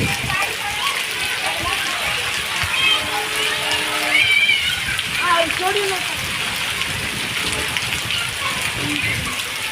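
Steady rain pours and splashes on hard surfaces in Dhandhuka, a dense hiss throughout, while people talk in the background.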